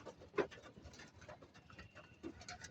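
Pigeons cooing and fluttering nearby, with soft rustling and a few louder wing flaps among the birds.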